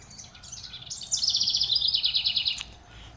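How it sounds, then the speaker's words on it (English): A garden bird sings a bright, rapid trill close by for about two seconds, with softer chirps before it over a faint outdoor background. "That's not dubbed in music. That's my birdies."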